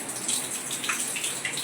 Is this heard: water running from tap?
yes